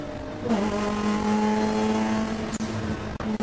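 Touring car championship field launching off the start, Mazda RX-8 among them: sustained loud engine roar with rising revs from several cars together, a steady drone with a sharp transient near the end.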